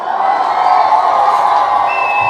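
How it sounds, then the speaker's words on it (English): A crowd cheers loudly and steadily, a dense wash of shouting and whoops held at an even, close level from start to finish. "I'll give her a round of applause"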